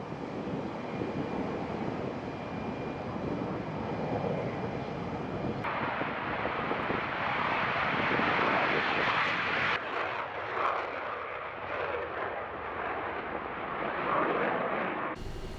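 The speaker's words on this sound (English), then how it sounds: "These German Air Force Eurofighter EF-2000 Typhoons are the last of the fighters to take off at Leeuwarden Air Base" German Air Force Eurofighter EF-2000 Typhoon jets take off at Leeuwarden Air Base, a continuous loud jet roar with wind buffeting that shifts in tone as the aircraft climb away.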